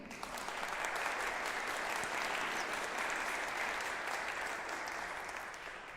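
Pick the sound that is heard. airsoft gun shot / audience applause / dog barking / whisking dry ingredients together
audience applause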